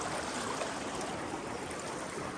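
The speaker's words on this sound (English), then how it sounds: "Made it to a river." A clear river flows steadily in a remote, harsh Canadian wilderness, a continuous broad rush and trickle of water close by with no voices over it.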